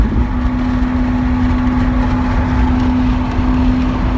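A Lamborghini Huracán Performante Spider leads a group of Aventadors, including an Aventador SV, with a loud, steady engine drone and a constant low hum throughout and no talking.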